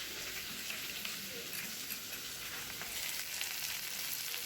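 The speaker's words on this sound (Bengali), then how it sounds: "মশলাটা এখন আমার কষাতে হবে ভালো করে" Spice paste for dokar dalna frying steadily in a pan, a continuous soft sizzle with faint stirring, alone and fairly quiet.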